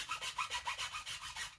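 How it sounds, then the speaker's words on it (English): A chainsaw file rasps back and forth cutting bow nocks into yew wood, about eight quick even strokes in a steady rhythm, close and fairly quiet. "a chainsaw file is an extremely good gauge of file to do this job with"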